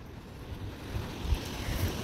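Ocean waves washing at the seashore in Ilocos Sur, a steady rushing surf with soft thumps of breaking water and some wind buffeting the microphone, no voices.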